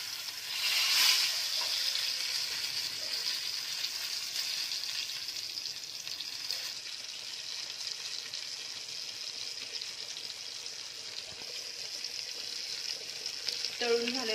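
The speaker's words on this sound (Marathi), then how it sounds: "आता दुसरी बाजू आपण तळून घेणार आहोत तेलामध्ये।" Pomfret fish shallow-frying in oil as the second side cooks, a continuous bright hiss of sizzling oil that swells briefly near the start and picks up clatter at the end.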